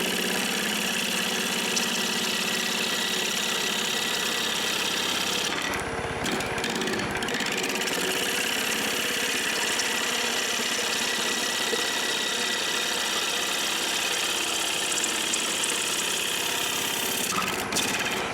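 A wood lathe gouge rides the bevel while roughing out an out-of-round bowl, producing a steady, loud cutting roar with a brief dip partway through and no talk.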